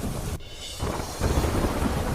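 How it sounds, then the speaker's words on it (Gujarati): Typhoon storm in Japan with heavy wind and rain: a loud, steady roar of wind-driven rain, broken by a brief drop near the start before the dense downpour surges back. "ભારે પવન સાથે પડ્યો વરસાદ"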